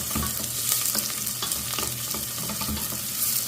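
Onion sautéing in a hot pan while being stirred, a close, dense sizzle broken by repeated scrapes and clinks of the spatula, with no voices.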